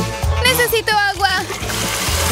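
Water splashes onto someone during a chocolate-versus-real-food challenge, a short wet burst heard alongside overlapping voices and vocal sounds throughout.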